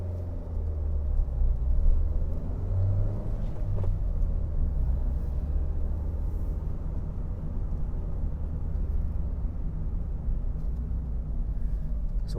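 A car pulls away from traffic lights and keeps driving, heard from inside as a steady, low engine and road rumble that stays even throughout.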